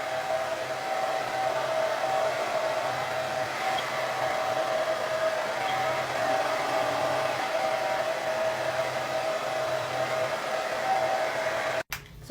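A hair dryer blows steadily over the roots of curly hair, a loud continuous close whir with a constant whine that runs unbroken until it cuts off abruptly near the end.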